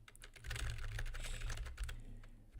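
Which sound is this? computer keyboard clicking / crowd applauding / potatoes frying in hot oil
computer keyboard clicking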